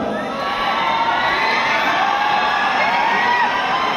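A big crowd of students in Bapu Sabhagar hall, Patna, keeps up a loud sustained roar of shouting and cheering at a results celebration, with no single voice standing out.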